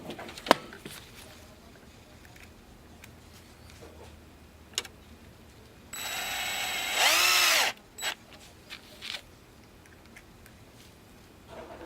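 Small screws being driven down to hold a software board inside a Lowrance HDS9 Gen 2 touch fish finder, with scattered faint ticks and clicks, then a short loud whirring burst of an electric driver in the middle and a few light taps after.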